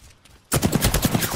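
Rapid automatic gunfire in the video game Apex Legends, silent at first and then erupting into a loud, sustained burst of closely spaced shots at close range, with no talking.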